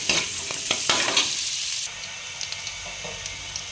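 Pork fat from a cow's stomach sizzles in a hot pan, a close, loud crackling hiss with a few stirring scrapes at first that then settles into a softer, steady fry.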